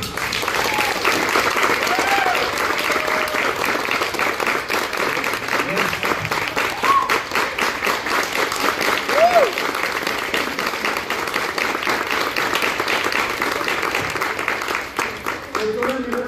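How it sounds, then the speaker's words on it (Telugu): An audience applauds to congratulate a 24-year-old on winning an 11-lakh Punch Adventure car: dense, sustained clapping that holds steady for over fifteen seconds before easing slightly at the end. "ఒకసారి గ్రేట్ రౌండ్ ఆఫ్ అప్లాజ్"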